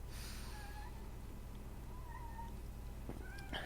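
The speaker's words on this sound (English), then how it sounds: "And the kitten over there is crying for some reason." A kitten cries with a few thin, drawn-out meows, faint and somewhat distant, over a steady low hum and background noise.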